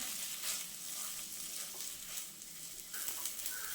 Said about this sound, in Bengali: আলুটা একটু নাড়াচাড়া করে নেব মশলার সঙ্গে।